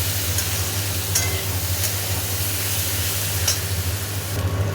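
Potato and cauliflower curry frying in a pan gives a soft, continuous sizzle at close range, with a few light clicks of stirring over the steady hiss.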